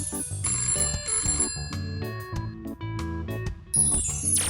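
A phone line ringing as a call connects during a prank-call segment, an electronic ringtone-like melodic tone pattern with repeated bell-like notes and beats, moderately loud and steady with no talking.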